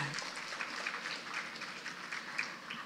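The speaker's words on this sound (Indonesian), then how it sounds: "Beri tepuk tangan yang meriah." Audience applause at an inauguration ceremony for the Samarinda city public library building, a steady, fairly faint wash of many hands clapping that continues throughout without a break.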